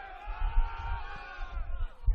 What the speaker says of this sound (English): Now the crowd is getting involved.